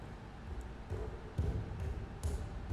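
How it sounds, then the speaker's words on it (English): Footsteps in the Roblox game Escape Mr Funny's Toyshop, a few dull, low thuds spaced irregularly over quiet background, fairly faint. "I can hear like footsteps."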